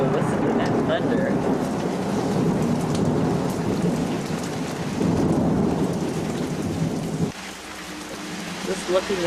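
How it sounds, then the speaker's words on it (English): Heavy rain pours steadily in a church courtyard in Jerusalem while deep thunder rolls loudly through most of the stretch, easing toward the end as the downpour continues. "Whoa, listen to that thunder."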